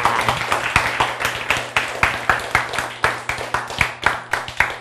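An audience at a lecture on what life is claps in a loose rhythm of distinct, fairly close slaps, each with a short ring, continuing steadily for several seconds.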